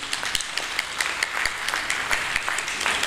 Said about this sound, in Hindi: उनके लिए बहुत सारी तालियाँ